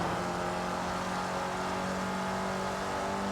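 A simulated modified Opel (Vauxhall) Astra engine in Forza Horizon 4 holds a high, steady rev, a buzzing tonal whine that stays constant throughout with no speech.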